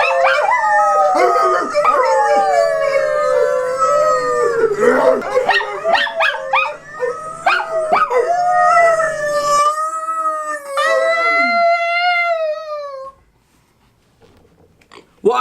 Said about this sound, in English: Who let the goddamn dog in here?